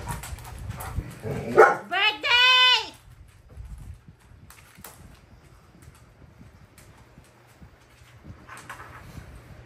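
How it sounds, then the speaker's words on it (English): A dog gives a short burst of yips and barks up close, then falls quiet, leaving faint background noise and a distant bark near the end. "This is so cute if she's barking."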